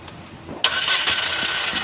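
A Jetour 1.5-litre car engine is started up close: a brief quiet stretch, then the engine catches abruptly and settles into a loud, steady run for the rest of the moment, with no talking.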